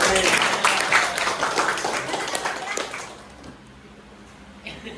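A high school class applauds after a group presentation, a loud burst of many hands clapping that lasts about three seconds, then thins out into quiet murmuring.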